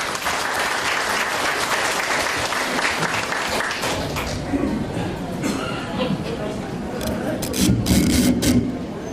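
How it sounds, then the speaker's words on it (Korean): A crowd at a Korean local election campaign rally for candidate number four applauds: dense, loud clapping that thins into scattered claps and murmuring voices, then swells briefly again. "큰 박수를 부탁드립니다."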